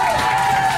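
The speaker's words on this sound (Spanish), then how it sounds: "el aplauso, el aplauso" Audience applause and cheering from a crowd at a live show aboard the yacht Triton, a steady wash of clapping for a contestant, loud and continuous throughout the brief moment.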